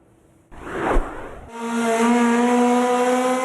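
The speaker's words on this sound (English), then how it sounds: "the car that runs on air" A rusty compressed-air-powered car passes with a short whoosh, then settles into a loud, steady whine with strong tonal harmonics, close and continuous, with no talk over it.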